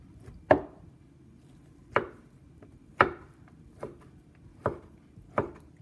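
A knife chopping corned beef on a cutting board for skillet hash, six sharp, separate thuds spaced about a second apart, close and clear with no talk.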